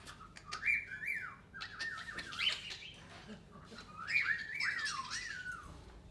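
A bird's courtship display song: repeated bright whistled phrases and rising-falling notes in bursts, fairly clear and close over a low background murmur, with no talking.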